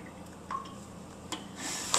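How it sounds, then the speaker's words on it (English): Tomato water dripping through a strainer, a few separate wet drips and small squishy splashes at close range, with a brief gush of liquid near the end. "you can see how the tomato water just drips right through there"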